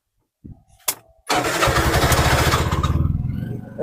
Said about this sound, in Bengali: প্রত্যেকটা গাড়ি স্টার্ট দেবো